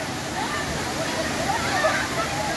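Fresh water pours steadily down the Ipiranguinha waterfall in Ubatuba, a close, continuous broadband rush and splash that holds an even level throughout.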